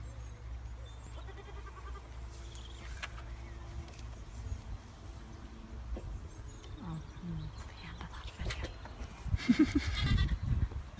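Goats bleating in a farm setting, scattered calls over a low background rumble, growing louder and busier toward the end, with no talk.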